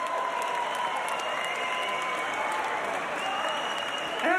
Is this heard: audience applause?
yes